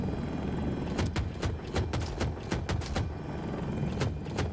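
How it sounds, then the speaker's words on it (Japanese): A helicopter hovers in the shooter game Battlefield 2042, its rotor chop steady and close, with sharp bursts of other game sounds cutting through and no talk. "右に浮いてるヘリいいね、彼。"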